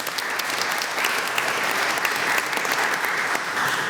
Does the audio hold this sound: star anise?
no